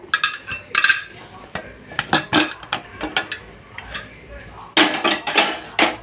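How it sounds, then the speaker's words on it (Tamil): A pressure cooker of chicken biryani is opened with a series of sharp metallic clanks and clicks from the lid and utensils, irregular and close, with a brief soft hiss. "இப்போ குக்கர் ஓப்பன் பண்ண போகிறேன்"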